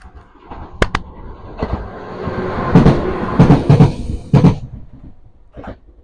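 Two-car train rumbling past outdoors, with clattering wheel knocks and metallic clacks swelling loud mid-passage then fading, no speech over it.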